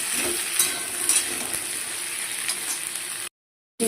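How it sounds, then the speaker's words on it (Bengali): Vegetables for a bottle gourd greens curry fry in hot oil in a pan, giving a steady close sizzle and hiss with faint stirring scrapes, ending abruptly in silence. "তো সবজিগুলোকে আমি একটু ভালো করে ভেজে নেব।"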